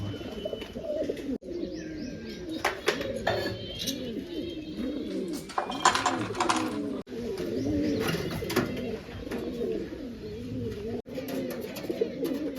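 Pigeons sitting up above in a rooftop setup coo in soft, repeated throaty murmurs, several birds overlapping in a continuous, moderately close chorus with occasional chirps.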